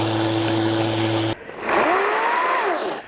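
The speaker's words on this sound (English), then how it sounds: "I had a lot more torque than I thought it would for a battery-powered chainsaw." A battery-powered chainsaw cuts into an overgrown tree outdoors, its motor whining steadily and loudly, then breaking off briefly before revving back up with a rising and falling pitch as the cut goes on.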